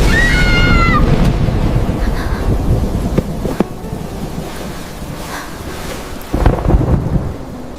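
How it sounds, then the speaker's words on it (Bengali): Loud, sustained thunder rumbling through a storm, with a deep continuous roll, a couple of sharp cracks in the middle and a renewed heavy rumble near the end; a brief high bird-like call sounds at the start. "আপনি কি মেঘের ডাক শুনে লুকিয়ে আছেন?"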